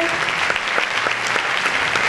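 Audience clapping loudly and steadily for comedians at a charity stand-up comedy show, dense sustained applause filling the room without a break.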